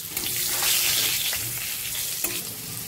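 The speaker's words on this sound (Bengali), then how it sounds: "এবার লাল লাল করে আলুগুলো ভেজে নেব।" Large potato chunks coated in turmeric and salt sizzling in hot oil in a home kitchen, a steady close frying hiss with occasional stirring scrapes.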